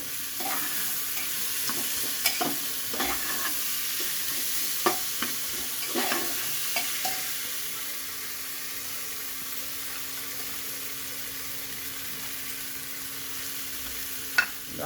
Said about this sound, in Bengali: তারপরে আমি ডালটা ভালো করে ভেজে নেব।